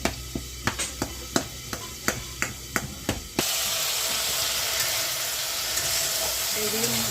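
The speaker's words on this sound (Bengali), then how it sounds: "আলুটা আমি ম্যাশ করে নিচ্ছি" Potatoes being mashed in a pan for matar ghugni, a run of rhythmic thuds and scrapes for a few seconds before a steady sizzling hiss takes over.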